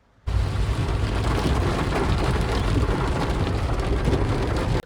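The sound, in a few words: heavy rain falling in Mendarda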